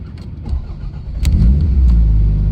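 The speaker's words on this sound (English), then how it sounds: "Starts nice. It starts really well, this one, hot or cold." A 1989 Toyota Celica GT-Four ST185 cranks briefly and catches, its engine settling into a loud, steady, deep rumble up close with no talking.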